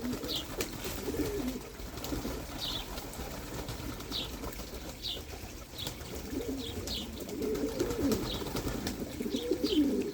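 Pigeons coo softly and repeatedly at close range, with occasional faint chirps and light rustling in the background.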